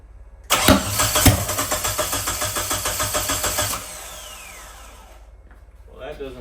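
A Mitsubishi Eclipse engine cranks loudly and rhythmically for about three seconds. It catches briefly, then winds down into a fading whir, with faint noise at the end.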